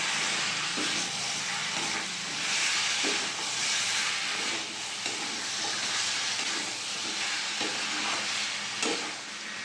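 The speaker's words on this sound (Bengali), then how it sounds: "আমি ভেজে রাখা চিকেনটা দিয়ে দেবো। ভালো করে কষিয়ে নেব।" Pre-fried chicken pieces cooking down in a spiced masala for a Bengali chicken kosha curry, with a continuous oily sizzle and hiss broken by repeated stirring scrapes of a spatula against the pan.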